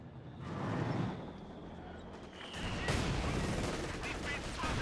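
Gunfire crackles in the Company of Heroes 2 real-time strategy game as a Panzer IV faces Bazooka Men, bursts of shots over a busy battle backdrop, fairly faint and under a commentator's voice.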